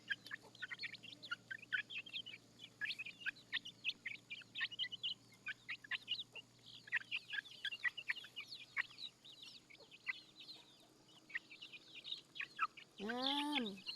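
Backyard village chickens cluck and chirp almost continuously nearby, with a louder low rising call near the end; no talking over them.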